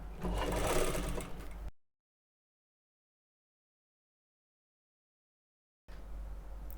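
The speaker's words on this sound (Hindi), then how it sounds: "उसके बाद हमें यहाँ पे सिलाई लगानी है" A sewing machine stitches a women's jacket in two bursts of steady, close whirring. A long silent gap separates the runs.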